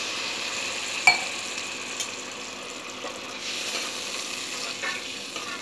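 Water poured into hot oil in a pan while cooking a quick vegetable curry, giving a steady sizzling hiss with a few sharp clicks of a stirring spoon, fairly close and without talk.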